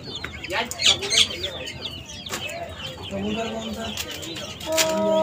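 Pigeons cooing and fluttering up close, with soft clucking bird calls and a few brief voices mixed in the background.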